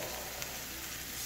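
A salmon fillet for miso-ponzu salmon hits a hot pan and sizzles, giving a dense, steady frying hiss that carries evenly through the short moment.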